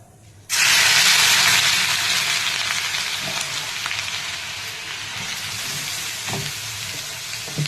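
Grated carrots for gajar halwa drop into a hot pan and burst into a loud, close, continuous sizzle that settles to a steady frying hiss with faint stirring scrapes, no voices.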